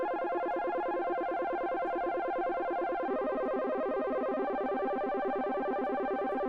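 Synth arpeggio melody from the Ya Arp patch in the Providence bank, a steady, rapid run of bright repeating notes that shifts to a new chord pattern halfway through, loud and alone with no voices.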